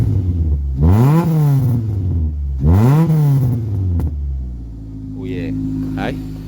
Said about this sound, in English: This lifter tick will come on.